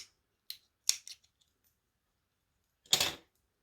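Scissors snip crochet yarn on a handmade doll, a few quick sharp clicks followed after a pause by one longer crisp cut, close and clear in an otherwise quiet room.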